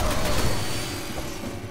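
Gunfire from the video game Resident Evil Revelations 2 bursts loudly at the start, a dense crackling volley that fades into a rumbling tail over under two seconds.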